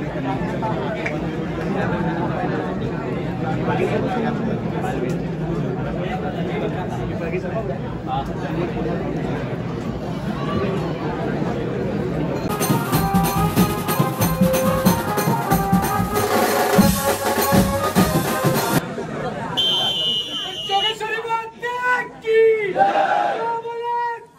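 A dense crowd packs a narrow lane at a Govinda troupe's practice for human-pyramid building, with loud steady chatter and shouting throughout; the babble grows busier and harsher toward the end, with voices and clatter close around.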